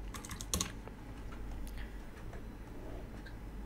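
Python code typed on a computer keyboard, a quiet run of irregular key clicks with one sharper tap near the start, continuing steadily.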